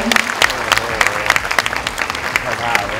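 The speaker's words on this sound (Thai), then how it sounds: "ปรบมือได้นะครับ" Audience at a Samsung Galaxy Note 10.1 launch event in Thailand breaks into close, lively clapping, with sharp individual claps over a crowd murmur and someone speaking Thai at the same time.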